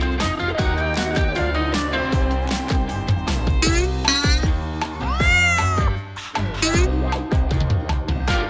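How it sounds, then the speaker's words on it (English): Cartoon kittens meow repeatedly in a children's animated truck adventure, several drawn-out mews rising over a busy, loud music score. "The kittens are taking the presents."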